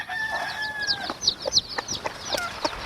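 A chicken clucks in short, repeated bursts close by, with a few brief higher cackles, in an otherwise quiet setting.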